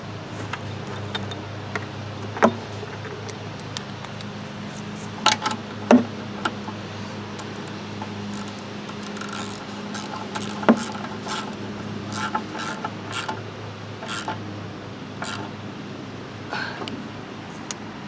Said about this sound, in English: Now I feel free to tighten that 1/2 inch bolt.